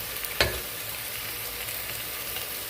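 Onions and ingredients sautéing in a pan for egg chicken biryani: a steady, close sizzle with one sharp utensil clack near the start.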